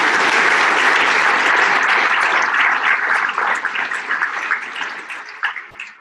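Loud, dense applause from an audience after a presentation by Dr. Maureen Hays, a sustained wash of many clapping hands that gradually thins and tapers off toward the end.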